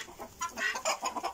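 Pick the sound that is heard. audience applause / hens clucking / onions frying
hens clucking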